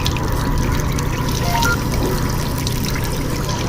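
Hot water pouring steadily from a sink tap in a VR cooking game, a continuous loud splashing stream with no talk over it.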